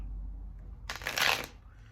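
Tarot cards shuffled in a short, crisp burst of riffling, fairly close and moderately loud, with no talk over it.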